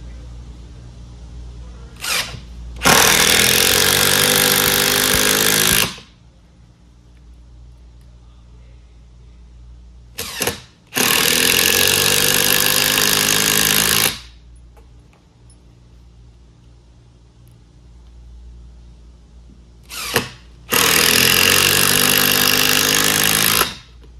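Hart cordless drill driving three screws into 7/64 pilot holes, each a loud, sustained whirring grind lasting about three seconds, preceded by a brief trigger blip and separated by short pauses.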